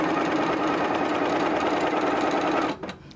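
A sewing machine stitches fat quarter fabric up to a fabric clip, its motor whirring loudly and continuously at close range before stopping abruptly near the end, followed by faint handling noise.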